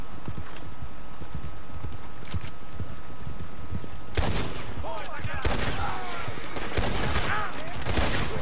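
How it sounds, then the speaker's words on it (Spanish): Hooves clatter steadily, then a burst of loud gunfire breaks out halfway through, repeated sharp shots cracking over the galloping with echoing tails, in Red Dead Redemption 2. "Bueno, voy a liar a tiros con ellos"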